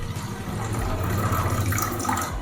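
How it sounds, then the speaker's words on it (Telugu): Soaked tamarind juice pouring from a container into a thick-bottomed cooking pot, a steady continuous liquid stream close by, lasting the whole moment with no talking. "ముందుగా నానబెట్టుకున్న చింతపండు రసాన్ని దీంట్లో వేసుకోవాలి."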